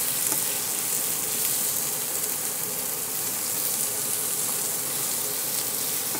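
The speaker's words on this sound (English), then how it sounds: "put the sofrito in there. Don't make it too hot, just medium heat." Sofrito frying in a pot over medium heat as the base for Puerto Rican stewed beans, giving a steady, even sizzle up close with no talking.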